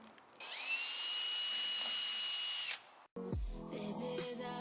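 A power drill whines steadily for about two seconds while backing screws out of a wrecked Tesla Model S P100DL, then cuts off, followed by a clunk and some louder workshop clatter.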